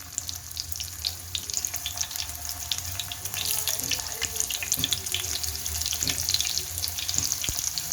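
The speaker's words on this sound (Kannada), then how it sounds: "ನಾವು ಎತ್ತಿಟ್ಟಿರೋಂಥ ಹಾಗಲಕಾಯಿ ಎಲ್ಲ ಅದಕ್ಕೆ ಒಂದೊಂದೇ ಹಾಕ್ಕೊಳ್ಳಿ." Stuffed bitter gourds frying in hot oil give a soft, steady crackle and sizzle throughout, with scattered pops and occasional clinks, fairly quiet and with no voices.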